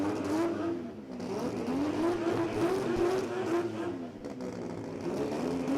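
A drag racing car doing a burnout at the Garrett Brisbane Jamboree 2025, a loud, sustained engine roar with a wavering pitch and tire noise, continuous throughout.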